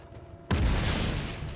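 A sudden loud blast from the Just Cause 3 video game bursts in after half a second of quiet and rolls on as a sustained rumbling roar with debris-like crackle, fading only slightly.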